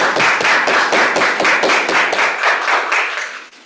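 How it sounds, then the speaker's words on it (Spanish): A small audience at an academic symposium on Irish studies claps after a talk, a dense patter of hands filling the room, then thinning and fading away toward the end. "Un aplauso"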